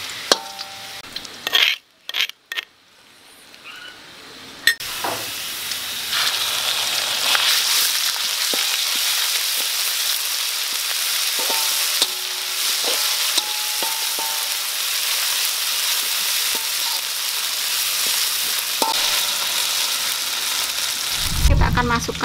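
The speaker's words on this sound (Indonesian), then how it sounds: "Setelah ini kita akan menumis bumbu yang dihaluskan." Ground spice paste for coconut-milk chicken soup being sautéed in a pan: after a few seconds of scraping and clatter, a loud, steady sizzle takes over, with occasional stirring knocks throughout.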